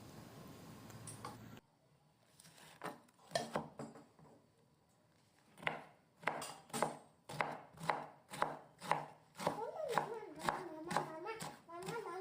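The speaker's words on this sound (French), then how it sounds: "maintenant je le coupe en morceaux" A knife chops drained cabbage into pieces on a board. After a short lead-in, irregular then steady rhythmic cuts build to about a dozen crisp, close knocks in a quiet room.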